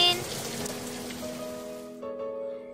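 Steady rain falls as a continuous hiss of drops with a soft, wet texture. A faint tonal hum runs beneath it, and the rain thins slightly near the end.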